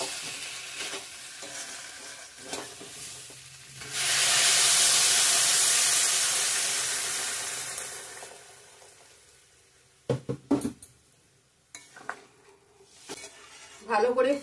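Water poured into a pan of frying spiced potato and paneer curry, bursting into a loud steamy sizzle and hiss that gradually fades; quieter stirring and utensil clinks follow, with a voice speaking over parts of it.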